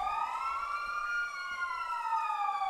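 A police car siren wails in a video game, its rising and falling tone sweeping past steadily and loudly with no voices over it.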